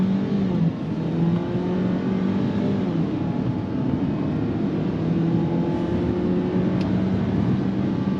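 A 2023 Ford Maverick XLT FX4 pickup pulls away from a brake launch and accelerates hard toward 60 mph. Its engine drone holds steady and loud for about eight seconds, with no talking.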